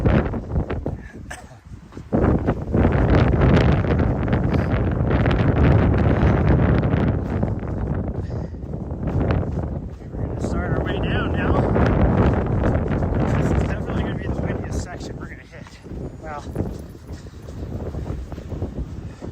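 Strong gusting wind buffets the microphone on a hillside trail during a run or walk, roaring and rumbling loudly in uneven surges with brief lulls, while a person's voice is faintly present underneath.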